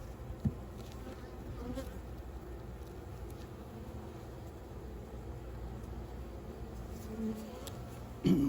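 Honey bees buzz steadily around an open hive in a low, even drone at moderate level throughout, with a few brief louder passes close by.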